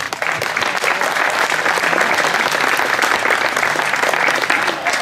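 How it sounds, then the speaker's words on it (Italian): Steady, dense crowd applause from spectators lining a slalom car race course at Bagnara Calabra, Italy, holding loud and continuous for about five seconds with no clear talk above it. "Applauso"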